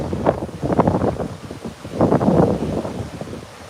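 Strong wind buffets the microphone over the Gulf of Mexico in heavy, uneven gusts, loud close rumbling bursts that swell and fade, with no talking.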